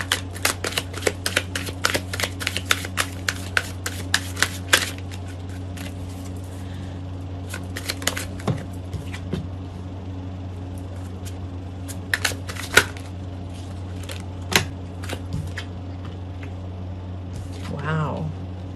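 Tarot cards shuffled in quick, riffling bursts, dense and close through the first five seconds, then thinning to sparse flicks and taps over a steady low hum, with a voice speaking briefly near the end.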